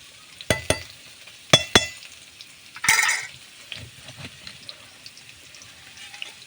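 Onions tip into hot oil in a pan. A few sharp metallic clinks lead to a short burst of hissing sizzle, which fades into faint, sparse crackling.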